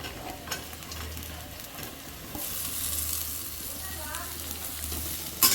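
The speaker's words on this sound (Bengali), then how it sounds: "এই বরবটি আর আলু একটু নেড়ে চেড়ে নেব" Long beans and potato pieces stirred in a frying pan during home cooking, a steady low sizzle with intermittent scraping and stirring strokes, a brighter burst of frying partway through, with no talking.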